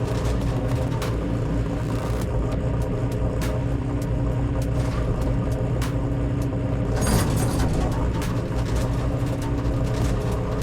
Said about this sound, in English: Sounds very loud. Maybe it's the exhaust they got on it.